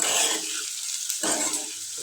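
Food frying in a pan while paneer bhurji is being cooked, giving a steady, close sizzle that dips briefly near the middle and then resumes.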